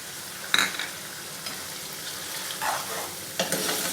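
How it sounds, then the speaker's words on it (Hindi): Ground coconut, coriander powder, crushed chilies and salt roasting in a pan over a high flame for a white chicken cheese karahi, a steady close sizzle with a few sharp clinks and scrapes of a utensil. "इसको भी हाई फ्लेम पे भून लेते हैं।"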